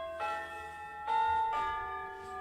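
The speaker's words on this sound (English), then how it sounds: "Bells, church bells." Church bells ring in three clear, resonant strikes about half a second apart, each leaving a long sustained hum that decays slowly; moderately loud with no talking.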